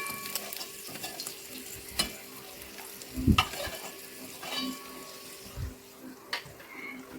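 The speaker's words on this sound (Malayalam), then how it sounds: "അപ്പോൾ കാഷ്യൂവും കിസ്മിസും ഈ തേങ്ങാക്കൊത്തൊക്കെ ഞാൻ ഈ എണ്ണയിൽ നിന്നും മുഴുവനായിട്ടും കോരി മാറ്റുന്നുണ്ട്" Cashews, raisins and coconut pieces frying in ghee for Kerala ada pradhaman are scooped out, with a low steady sizzle, soft spoon scrapes and a few louder clinks of the ladle against the pan.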